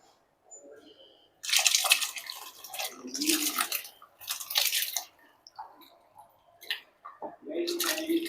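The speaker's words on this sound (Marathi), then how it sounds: "आता ह्यात आपण भिजवलेले तांदूळ टाकणार आहोत." Soaked rice is tipped into boiling water in a pot for chicken dum biryani, with several loud splashing, rushing bursts separated by short pauses.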